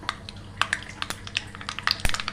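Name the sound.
mustard seeds and cumin tempering in hot oil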